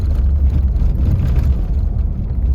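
Road and wind roar fills the cabin of a 1994 Oldsmobile Silhouette minivan with a V6, driving with the windows down: a loud, steady, low rumbling drone with no speech.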